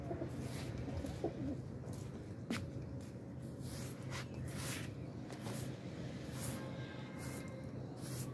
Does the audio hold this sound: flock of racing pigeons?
yes